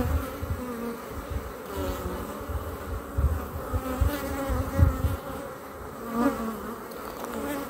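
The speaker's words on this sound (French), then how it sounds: "je pense que je vais retirer celui-ci avec les abeilles" Honeybees buzz around an opened beehive frame, a dense continuous hum close by with individual bees swelling louder as they pass near.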